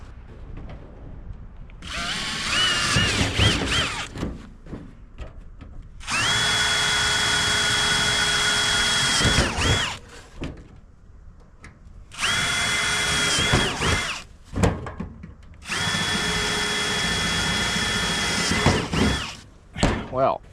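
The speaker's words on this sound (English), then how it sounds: "Let's see how many of these we can drill." A power drill whirs in four sustained bursts of a few seconds each, drilling on an old trailer, with short pauses and faint handling noises between them.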